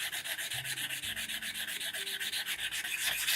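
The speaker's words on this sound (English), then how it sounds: "Let me grab some sandpaper and I'll show you how I make it look good. This is some 320." Steady back-and-forth rubbing of 320 grit sandpaper rounding over the edge of a wooden acoustic guitar part, close and even in rhythm, with no talk.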